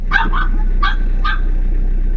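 A puppy at home gives a few short, high yips and barks in quick succession near the start, then two more single yips spaced apart, all over a steady low hum.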